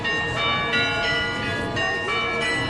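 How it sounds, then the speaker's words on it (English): Church bells ring out in an Athens neighborhood near a metro station, a dense sustained wash of overlapping tones with steady loudness, heard amid background murmur. "you're listening to the bells of the church."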